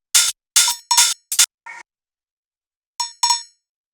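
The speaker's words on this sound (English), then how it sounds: "We have this bell. This is also really popular in these kinds of tracks." A bell sample in a modern trance track made in Ableton strikes in short, bright metallic clangs, a quick rhythmic run of hits followed by a pause and two more strikes.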